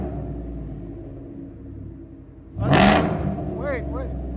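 A supercharged Ford F-150 with a 5.0L V8, headers and Black Widow Race Venom exhaust idles with a low rumble, then barks into one loud, short rev before settling back, with voices talking over the idle.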